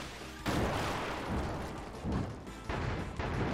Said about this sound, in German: Und diese blöde Kanone.